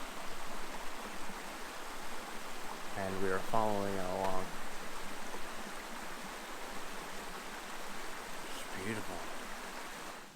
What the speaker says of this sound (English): this is the Upper Carp River,